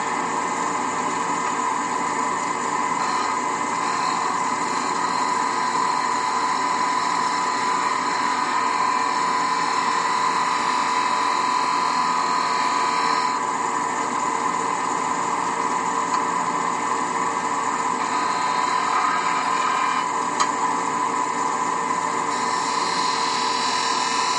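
A wood lathe turns a candlestick while a skew chisel cuts, making a steady, unbroken high whine and hum that stays level and close throughout, with no voices.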